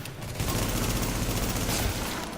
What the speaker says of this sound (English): listen to that headshot sound